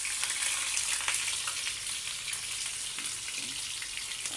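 Chicken fries in a wok on a stove with a soft, steady sizzle and faint crackles throughout, fairly quiet, with no talking.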